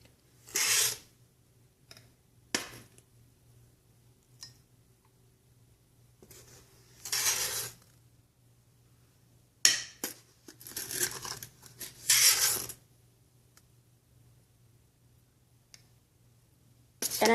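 Sugar is scooped into a cup in several short, gritty rasping bursts separated by quiet gaps, close and fairly soft, with no talking.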